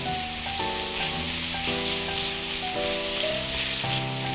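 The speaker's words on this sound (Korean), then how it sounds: "그래서 양파 먼저 넣을게요." Onions sizzle loudly and steadily in a hot frying pan as the first vegetable goes in, a dense crackling hiss running throughout with no talk.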